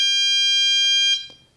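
The RAVEMEN NT101 bike light gives a loud, piercing electronic alarm tone when arming, holding steady for about a second before cutting off, followed by faint clicks.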